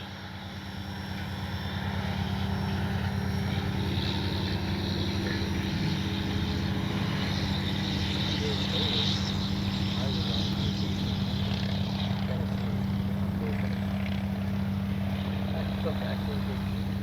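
A Bronco RC plane with AS3X+ stabilization flies overhead, its propeller giving a steady, even drone after a quick rise in the first two seconds and holding at a constant level throughout.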